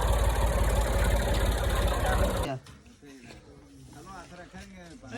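A tractor engine at a village tube well runs loud and steady with a dense mechanical chug for a couple of seconds, then cuts off abruptly, leaving people talking over quiet background noise.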